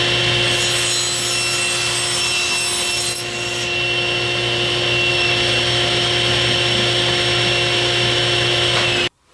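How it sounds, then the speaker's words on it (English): A table saw rips through a piece of plywood in one long continuous cut, the loud whine and steady grinding rasp holding for about nine seconds before stopping abruptly. "let's head over to the table saw and cut that to those dimensions"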